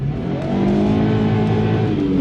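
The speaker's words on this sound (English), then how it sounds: "I did a bit more of a skid." A car rolls close by with a steady engine drone, and rising and falling tonal whines that could be tyres sliding during a skid run throughout the short burst, loud and without talk.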